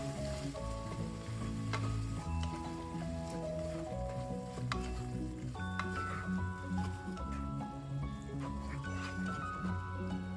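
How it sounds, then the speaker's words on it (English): Corned beef sautéing in a pan for ginisang corned beef, sizzling steadily while being stirred, under steady music. "Give it a stir."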